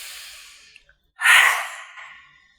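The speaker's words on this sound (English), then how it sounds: "Deep breath in." A deep, close breath during a cleansing breathing exercise: a soft airy inhale fading out, a brief pause, then a louder, fuller breath that swells and slowly tapers away, with no words.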